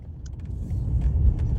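A Jaguar XJ6 rolls up to a truck stop on the Elliott Highway north of Fairbanks, Alaska, its low engine and road rumble building steadily, close and alone with no talk.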